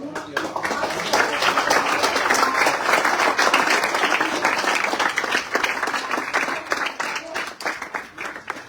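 A crowd at a Hindi poetry recitation competition claps in steady, dense applause that stays loud throughout and eases slightly near the end.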